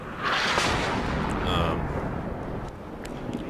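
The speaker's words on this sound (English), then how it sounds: "My opponent was incessant with his artillery." Artillery fire in the WARNO real-time strategy game, heavy low rumbling booms that swell early and roll on beneath a voice, with faint distant thuds behind.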